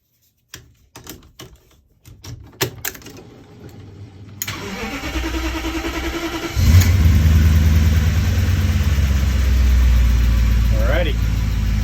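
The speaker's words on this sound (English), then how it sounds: "I'm going to go for broke and attempt to start the car." A car engine on a vehicle with newly added OEM wiring clicks and cranks several times, then catches at once and settles into a steady, loud running note, with a short rising rev near the end.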